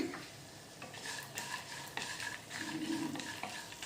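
Sesame seeds, peanuts, dried chilies and roasted gram frying in a pan, stirred with repeated scraping strokes over a soft sizzle, close and fairly quiet.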